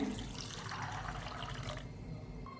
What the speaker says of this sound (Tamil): அது மூழ்கிற அளவுக்கு தண்ணி வச்சுங்க